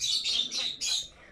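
Three harsh, shrill bird squawks in quick succession, close and fairly loud, in Minecraft.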